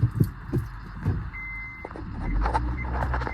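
A large vehicle beeps while reversing on a muddy mountain road near Umiam dam on the way to Shillong, the beeps sounding over a low engine rumble and scattered knocks.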